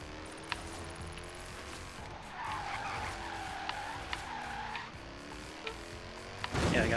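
Tires skid and squeal steadily as a car drifts in Forza Horizon 3, with a sustained screech and engine note under occasional sharp clicks, ending in a louder burst.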